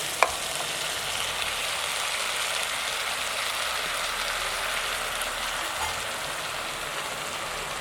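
Marinated prawns fry in a pan with a steady, dense, rain-like hiss. One short clink comes near the start, and the sizzle stays even and close throughout.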